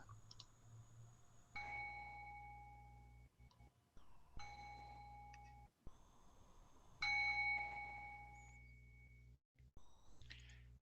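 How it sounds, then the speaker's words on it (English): A meditation bell struck three times during a community gathering, each ring a clear sustained metallic tone that slowly decays, separated by short quiet gaps. "listening to 3 sounds of the bell"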